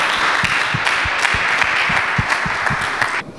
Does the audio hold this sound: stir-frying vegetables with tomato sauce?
no